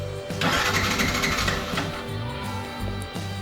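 A Yamaha FZ V2.0 motorcycle with a starting problem cranks on its starter while the throttle is held open. It makes a steady, loud mechanical whir for about three seconds without catching, close to the listener and with no voices.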